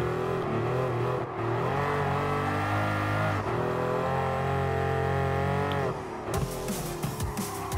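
Pagani Huayra mid-engine hypercar racing in Gran Turismo Sport, a loud continuous engine drone holding high revs with pitch sweeps through gear changes, then a brief drop and a sharper burst of revving near the end.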